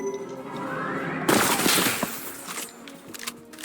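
Video game gunfire from a pistol, heard as a loud burst of rapid shots that starts abruptly partway through, then eases into scattered fainter cracks with no talking.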